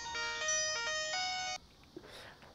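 Electronic phone ringtone playing a repeated melodic tone pattern loudly for about a second and a half for an incoming call, then cutting off into quiet room sound.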